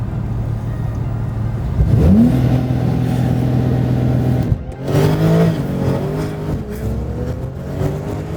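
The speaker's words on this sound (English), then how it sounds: "Oh, launching, hell yeah. The launching is crazy." A Porsche 911 Carrera 991.2 launches hard, its engine rising in pitch before a quick gear shift and another climbing pull, loud and close from inside the car.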